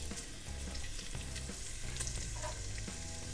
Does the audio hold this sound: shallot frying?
yes